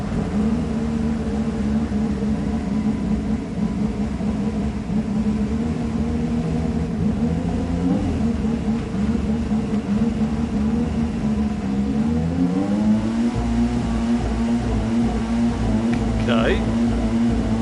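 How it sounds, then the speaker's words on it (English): Car engine in the Gran Turismo 7 racing game, playing on PSVR2, holding a steady mid-pitched drone that climbs slightly in pitch near the end, with talk over it throughout. "It sounds less whiny. This might be a bit more sounding like a normal car."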